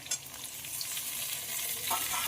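Chopped tomato hits fried potatoes and onions in a hot pan, giving a steady, close hiss of sizzling with faint stirring scrapes and no voices.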